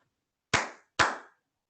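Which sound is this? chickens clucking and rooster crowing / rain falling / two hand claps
two hand claps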